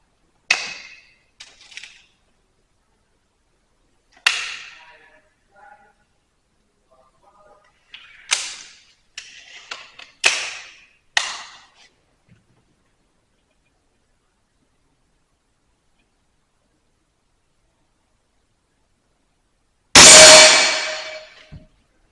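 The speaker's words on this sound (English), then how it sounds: "let's have a go against this pesky little bell target then" Air rifle pellets from a Remington Sabre TH strike a metal bell target, a string of sharp clangs and ringing dings at irregular intervals, with one final louder hit after a long silence.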